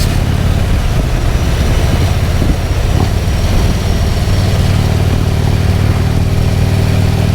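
A motorcycle fitted with an S&S 465 cam cruises along with a loud, steady low engine drone and constant wind rush, without obvious revving.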